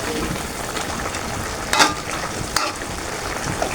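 Sliced spring onion stirred in a frying pan, a dense steady sizzle with a couple of sharp utensil scrapes, close and without speech.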